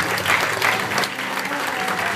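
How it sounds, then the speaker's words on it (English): Wedding guests applaud the bride and groom after their first dance at a Laguna Beach reception, a dense, steady wash of clapping from a crowd filling the room. "A round of applause"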